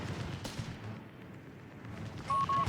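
Distant battlefield gunfire and artillery rumble in Company of Heroes 3, a desert clash between the Afrika Korps and British forces, with scattered low booms and a steady dull roar, a few sharp tonal beeps near the end.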